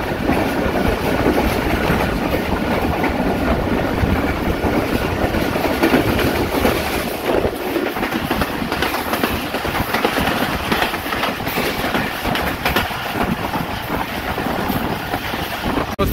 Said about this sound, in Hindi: 28 down Shalimar express Gojra cross करेगी